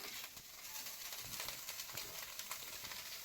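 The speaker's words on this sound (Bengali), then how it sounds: "মাছগুলো ভেজে নিচ্ছে" Fish frying in a pan of oil in a home kitchen, a faint, steady hiss and sizzle with soft crackles and occasional stirring, heard at a low level throughout.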